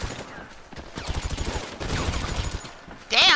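Gunfire in GTA V Online comes in quick bursts of rapid shots, near and fairly loud, with a sharper blast near the end and game noise around it.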